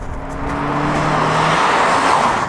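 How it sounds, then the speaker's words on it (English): Engine and exhaust of a modified hatchback-generation Subaru Impreza WRX STI, a steady loud rumble with rising tone as it revs or drives close by, no talk over it. "the exhaust does sound pretty good from the factory"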